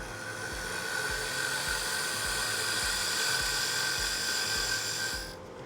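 A woodturning lathe tool cuts into spinning wood with a steady, high whining hiss and a rhythmic low thump from the rotation, fairly quiet and alone, stopping at the end.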